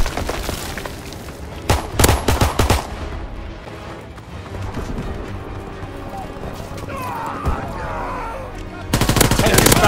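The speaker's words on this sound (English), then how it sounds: "They fire on the infantry by the tank." Gunfire in the Call of Duty: WWII video game during a tank battle, scattered loud shots and bursts mixed with a busy background of battlefield noise, with a stronger cluster of firing at the start and end.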